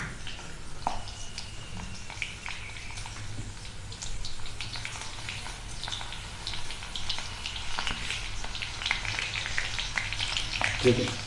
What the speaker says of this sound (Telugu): పచ్చిమిర్చి వేసిన తర్వాత కరివేపాకు వెంటనే ఆనియన్స్ యాడ్ చేసుకున్నాం